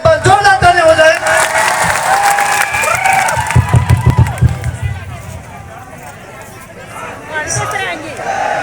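A crowd at a tribal mass gathering at Beneshwar Dham breaks into loud applause mixed with cheering and shouted voices. The noise is strongest at first, then thins into scattered clapping and crowd murmur.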